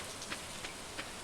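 Rainfall in the farming game Stardew Valley, a faint continuous hiss of rain with occasional light drop taps, no talking.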